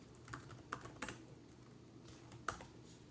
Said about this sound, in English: I find typing to be pretty comfortable on this laptop overall